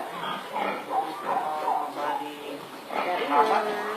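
Four-month-old pigs in a pen on a Filipino farm give low grunts that blend with ongoing talk nearby.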